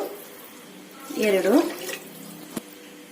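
Water is poured from a glass into rice in a cooking pot for methi pulao, a short splashing pour lasting about half a second in a quiet kitchen.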